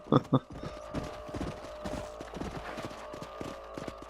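Horse hooves clip-clop steadily in the Western video game Red Dead Redemption, a moderate rhythmic trot under game ambience, opened by two brief louder thumps.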